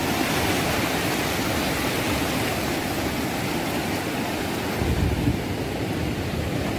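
Sea waves at a beach make a dense, steady roar of surf with constant wind-like wash, loud and unbroken throughout, with no voices.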